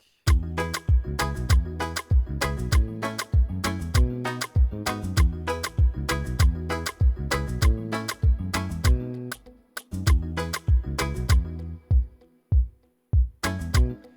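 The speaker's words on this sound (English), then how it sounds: "A lot of guys admire this kick." Punchy, booming kick drum hits made in FL Studio pound out a steady, driving beat pattern, loud and up front, then thin out into a few isolated thumps near the end.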